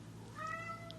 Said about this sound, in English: Excuse my cat meowing.